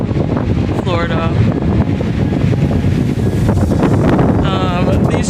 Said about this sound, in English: So yeah, super windy